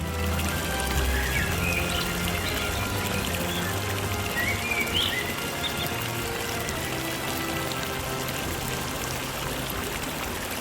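Continuous splashing and trickling water, like a fountain pouring into basins, steady and fairly loud with faint chirps above it.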